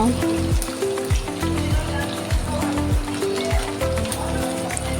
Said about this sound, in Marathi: मस्त असं लसूण ब्राऊन होईपर्यंत असं परतून घ्यायचं आहे